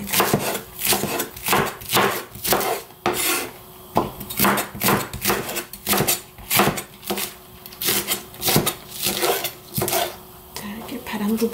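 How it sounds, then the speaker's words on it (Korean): A knife chops green onions for a fresh codfish soup, striking a wooden board in steady, rhythmic chops that are close and fairly loud, with a few brief pauses in between. "대파만 이렇게 썰어 두겠습니다"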